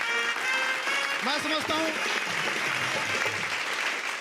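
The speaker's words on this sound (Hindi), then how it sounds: "ऐसे महान कलाकार के लिए जोरदार तालियां" Audience applause fills a comedy show venue, a steady dense wash of clapping throughout while someone speaks over it.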